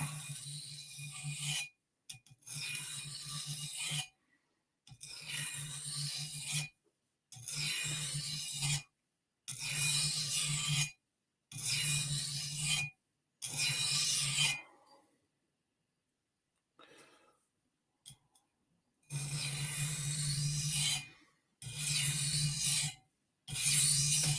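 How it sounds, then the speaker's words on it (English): A knife edge is drawn across a coarse DMT diamond plate in bursts of quick, rhythmic rasping strokes, each run separated by short pauses, fairly close and moderately loud. "This one here is a DMT coarse. But I'm just going to go ahead and we're just going to clean this edge up a little bit."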